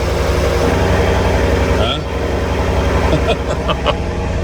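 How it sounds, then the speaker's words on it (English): A car with a check engine light on idles steadily with its active exhaust switched on, giving a loud, constant low rumble throughout, while someone talks over it. "Listen to the difference when we turn the active exhaust on."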